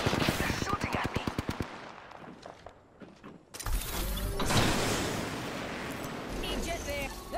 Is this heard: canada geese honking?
no